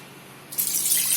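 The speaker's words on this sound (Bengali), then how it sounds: "এবার আমি চালগুলোকে এটার মধ্যে ঢেলে দেব" Soaked, swollen rice tipped into a strainer, water splashing and draining in a steady rush that starts halfway through after a quieter lead-in.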